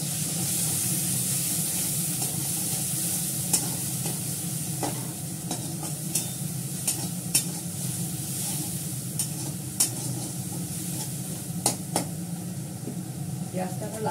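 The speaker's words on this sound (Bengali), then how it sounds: "পেঁয়াজটাকে লাল করে নিই।" Onion paste with ginger paste sizzles and is stirred in a pan, a steady frying hiss broken by scraping stirs and small crackles, close by, with a voice talking over it.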